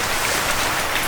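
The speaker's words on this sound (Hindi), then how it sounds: "बट शूटिंग के टाइम आ गई बारिश" Steady rain pours through the woods of Kalatop Wildlife Sanctuary near Dalhousie, Himachal, a dense, even hiss of drops pattering on leaves and surfaces close by, with no voices.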